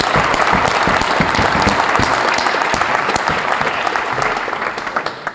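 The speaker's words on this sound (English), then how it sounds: "I want to give them a round of applause again" A school crowd applauds the Booster Club at a varsity jacket night, a dense, loud round of clapping that holds steady for several seconds before thinning slightly toward the end.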